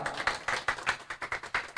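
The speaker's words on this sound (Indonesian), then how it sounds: "Tepuk tangan untuk beliau." Applause from an audience greeting a guest at an Indonesian youth gathering, a brisk run of rhythmic clapping at moderate distance with no talk.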